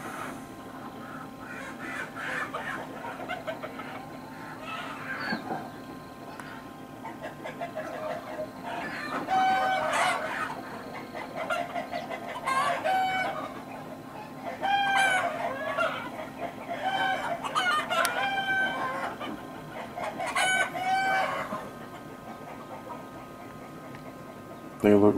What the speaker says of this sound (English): We carried over and we got chicks hatching, folks.